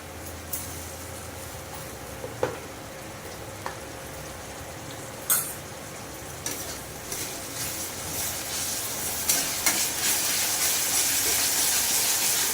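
Onion and tomato fry in a pan with a spoonful of ginger garlic paste while a Bengali brinjal masala is cooked. A steady sizzle and hiss grows louder toward the end, broken by a few sharp stirring clinks.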